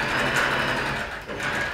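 A sewing machine with twin needles stitches a swimsuit hem, running in a steady continuous whir with a brief dip in speed partway through, close and fairly loud with no voices.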